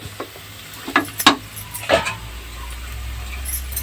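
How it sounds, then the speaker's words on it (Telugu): Boti curry, goat tripe, frying in a pan, with a soft steady sizzle under several sharp scraping strokes of a spoon stirring the pan, close and clear with no talk. "ఇది కూడా ఒక ఐదు నిమిషాలు బాగా వేగాలన్నమాట"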